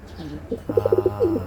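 A pet bird, a male, coos close by: a quick run of soft, rhythmic throaty coos, then a longer warbling coo to finish.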